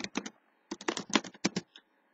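Clustered clicks of typing on a computer keyboard, close and crisp, arriving in quick bursts separated by short pauses.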